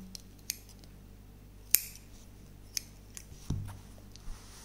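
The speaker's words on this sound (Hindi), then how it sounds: "धागे को काट देंगे" Scissors snip crochet thread in a few sharp, close metallic clicks, scattered across a quiet room with a soft thump near the end.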